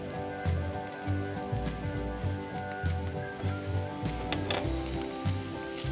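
Garlic and grated ginger sizzling in a hot pan, a steady close crackle and hiss like light rain, with a faint rhythmic pulsing underneath and no talking.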